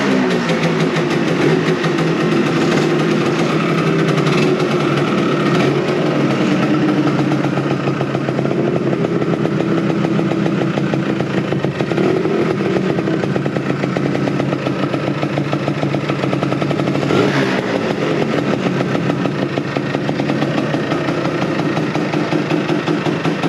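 A Lambretta scooter's small two-stroke engine runs steadily and loudly up close, idling with a buzzing, even exhaust note and mild rises in revs throughout.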